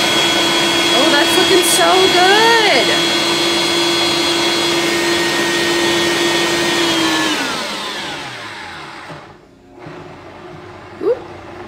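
A Vitamix blender running on high while mixing homemade Caesar salad dressing gives a loud, steady whirring roar for about seven seconds, then winds down and stops. Someone talks over the motor.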